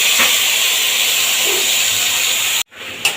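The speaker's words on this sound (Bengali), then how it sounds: "ওই তেলের মধ্যে বেটে রাখা পেঁয়াজ আদা রসুনের পেস্টটা আমি দিয়ে দেবো" A paste of onion, ginger and garlic hits hot oil with a loud, close, steady sizzling hiss that cuts off abruptly near the end, then briefly resumes.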